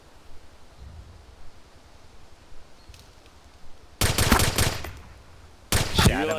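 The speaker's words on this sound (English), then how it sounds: "Shot him in the face with a pistol." Pistol fire in Arma 2 DayZ: two loud bursts of sharp, rapid gunshots arrive after several quiet seconds, each cluster close and crackling.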